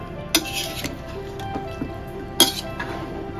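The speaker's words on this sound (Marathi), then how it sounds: "आपण आता सगळं मिक्स करून घेऊया" Utensil clinks against a cooking pot as maize and amaranth stalks for Rushi Panchami bhaji are stirred together, two sharp metallic knocks standing out over soft scraping and faint stirring noise.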